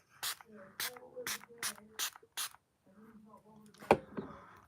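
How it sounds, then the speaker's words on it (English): Revolution pore-diminishing setting spray misted from a nearly finished project-pan bottle in six short, evenly spaced pumps, close and crisp, followed by a quieter spray burst amid soft vocal sounds. "I think I'm going to just spray this on because I want to use it up"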